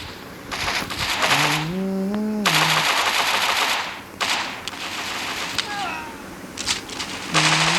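Rapid automatic gunfire from the video game FPS Online Strike comes in several loud bursts, broken up by short pauses and some tonal game sound effects. Someone talks over parts of it.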